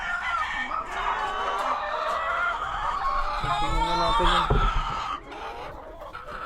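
A flock of about ninety farm chickens clucks and squawks in a dense, close chorus, with a rooster-like call rising midway and a voice speaking briefly.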